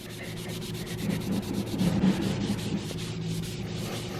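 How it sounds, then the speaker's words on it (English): Brake cleaner wiped across bare metal to erase marker writing beside an MK4 Supra fuse box harness, a steady close scrubbing rub with soft swishing strokes and a low hum underneath, no talking. "Let's go ahead and erase that with some brake cleaner."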